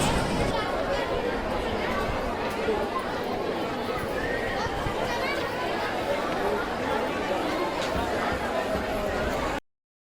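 Dense crowd of pilgrims chattering on the Vaishno Devi yatra route, a steady wall of overlapping voices with horse hooves clip-clopping and occasional whinnies mixed in, continuous and close throughout.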